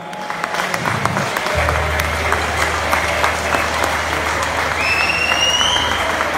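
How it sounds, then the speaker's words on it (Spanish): Rock festival crowd applauding at an outdoor concert, a steady dense wash of clapping and cheering held at even loudness, with a low stage hum underneath and a brief rising whistle near the end. "Queremos dar que deis un fuerte aplauso a la Comisión de Fiestas de Thanos por seguir apostando por festivales de rock."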